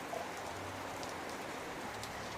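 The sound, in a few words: heavy rain starting in a Hindi cartoon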